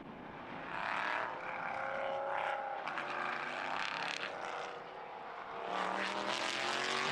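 Prototype race cars at the Mugello circuit accelerating hard, a distant blend of several high-pitched engines that swell and fade as the cars pass by under full throttle.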